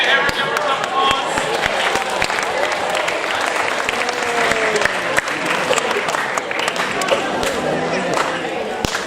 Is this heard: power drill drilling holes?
no